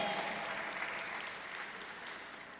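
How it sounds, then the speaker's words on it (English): A crowd at a political rally claps for Rep. Jan Schakowsky, a dense, steady wash of applause that tapers slightly over a few seconds. "Give Jan Schakowsky a round of applause."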